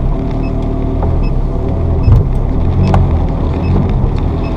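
Ferrari 360 F1 with a gearbox actuator being repaired, pulling away in first gear on a driveway: a steady low engine drone with a brief louder surge midway, close and continuous.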